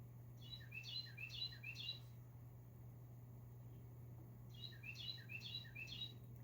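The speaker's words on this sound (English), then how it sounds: "I don't know if you hear that bird. He's very cute. He's singing outside my window." A bird outside a window sings two short bursts of bright chirping phrases, a little distant, over a steady low hum and quiet background noise.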